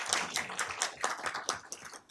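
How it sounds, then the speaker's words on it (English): Scattered applause from a small audience at a school district board of trustees meeting, irregular claps fairly quiet and close, fading out within a couple of seconds. "You can give her a round of applause."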